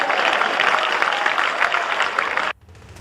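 Dense audience clapping at a Kumar Vishwas event, a steady loud wash of many hands that cuts off abruptly near the end, leaving quiet room tone.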